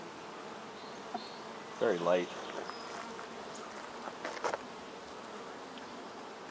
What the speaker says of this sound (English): There's a bee there with pollen on her legs.